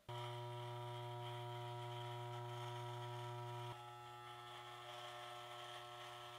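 An electric beard trimmer hums steadily and close by, a loud, continuous buzz while a beard is being shaped up. Partway through, the pitch and load shift slightly as it cuts, and it carries on with no talking.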